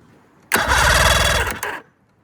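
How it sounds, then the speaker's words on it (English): An old, long-abandoned hunting and fishing boat's engine cranks and catches, running loud and steady for about a second before cutting off, close by. "Let's see if the engine turns over."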